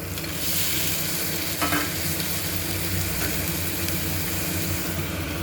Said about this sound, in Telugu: అంతా మిక్స్ చేసుకోండి.